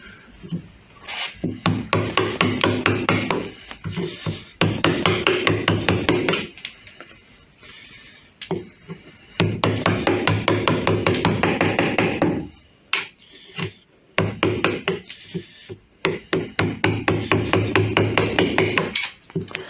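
A hand chisel cutting through rimu wood while an arm contour is rough-shaped, making close, rapid, rhythmic tapping and scraping strokes in long bursts separated by short pauses, with no voices.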